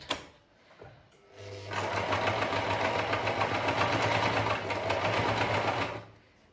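A Privileg Super Automatik sewing machine stitches with a twin needle, running steadily at close range for about four seconds after a brief start-up, with a constant motor hum and rapid needle chatter before it stops.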